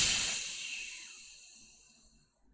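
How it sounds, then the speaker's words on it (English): A shaken bottle of brown lemonade fizzes with a bright, steady hiss that starts strong and slowly fades over a couple of seconds, close up, with no talking. "but it's kind of fizzing"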